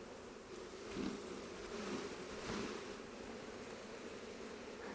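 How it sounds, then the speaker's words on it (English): Honeybees hum inside a hive box during an inspection of comb from a cutout, a soft continuous buzzing drone that swells slightly at moments, faint and close with no speech. "It's definitely a box full of bees anyway"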